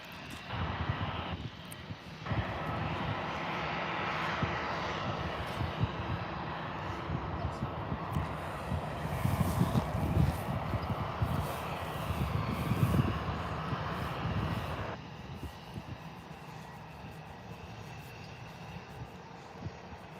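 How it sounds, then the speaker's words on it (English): An EasyJet Airbus A320 at Birmingham airport gives off a steady, loud jet engine roar that swells in the middle and eases slightly toward the end, with no talk over it. "Your EasyJet A320."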